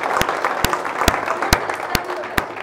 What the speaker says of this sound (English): can we just take a minute and give a round of applause to the organizers and local team that put this all together?